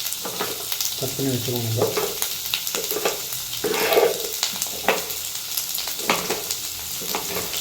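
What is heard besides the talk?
onion and tomato sautéing in a pan for watermelon chutney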